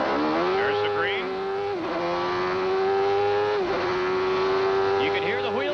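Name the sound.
CART race car wheel spin as Nigel Mansell jumps away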